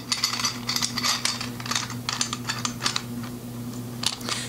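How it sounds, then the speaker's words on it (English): A cymbal riser clamp on an Alesis drum kit is ratcheted tight in a quick run of close, crisp clicks, several bursts in a row over a faint steady hum, then a last few clicks after a short pause. "Clamps down firmly without too much pressure."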